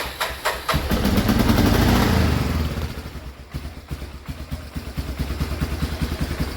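A 1989 Yamaha Moto4 ATV engine cranks with a few rapid clattering pulses, catches and revs loudly, then settles into a fast, even idle chug close by, with no talking.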